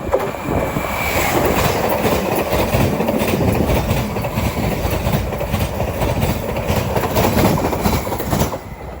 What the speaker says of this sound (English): Soon to come charging her way through 12 minutes late will be a Greater Anglia service running from Norwich to London Street.